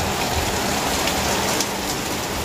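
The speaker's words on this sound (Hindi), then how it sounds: "बहुत तेज बारिश हो रहा है फ्रेंड" Heavy rain pouring down in a village, heard from indoors as a dense, steady, loud hiss and patter with no pauses and no voices.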